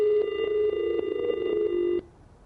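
A telephone line rings during a live TV news call, a loud steady electronic tone with overtones for about two seconds before cutting off to faint background.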